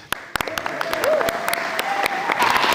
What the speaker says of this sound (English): Give us a cheer.